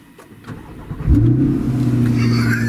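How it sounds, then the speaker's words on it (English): A 2021 Corvette Stingray Convertible with performance exhaust cranks and fires up with a loud, deep exhaust rumble that settles into a steady, throaty idle. "this car does have the performance exhaust sound, which comes in at startup and uh, sounds pretty good."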